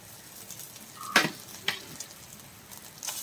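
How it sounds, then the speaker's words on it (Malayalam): Cooked rice for egg fried rice is tipped into a hot pan and stir-fried, giving a soft sizzle with a few sharp scrapes and clinks of the spatula against the pan, fairly quiet and with no talk. "ഇനി നമുക്ക് റൈസ് ഇട്ട് കൊടുക്കണം"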